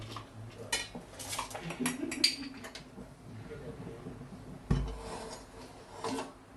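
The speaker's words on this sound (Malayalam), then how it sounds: "മീറ്റ് മസാല ഇട്ട് ആണ് നമുക്കിത് മിക്സ് ചെയ്യാം" A spoon scrapes and clinks against a pot as beef is mixed with meat masala, turmeric, salt, chilli powder, coriander powder, green chillies and curry leaves for kappa beef biryani, in close, irregular strokes with a louder knock near the end.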